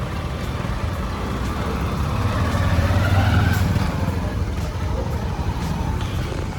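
A motorcycle being taken away after a long solo ride across North East India, its engine a steady low rumble that swells slightly mid-way, blended with surrounding road and traffic noise and no clear talk.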